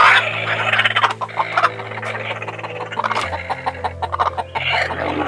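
Backyard hens cluck in short, repeated calls over a steady low mechanical hum, close and fairly loud.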